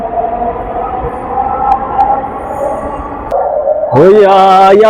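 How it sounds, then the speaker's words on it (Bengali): A Dhaka metro rail train pulls out of a busy station, its steady rumble and whine running for several seconds before a loud tonal rise near the end as it accelerates away close by. "ট্রেন চলে যাচ্ছে"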